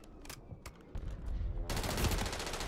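Rapid automatic gunfire in Call of Duty Warzone on Rebirth Island, short bursts of shots at first followed by a loud, sustained stream of fire.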